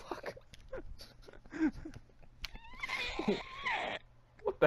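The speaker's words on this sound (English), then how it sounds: "It was a beach cat." A cat call played from a Sounds of the Wild nature CD, a wavering meow-like cry near the end of the clip, with excited people talking over and around it.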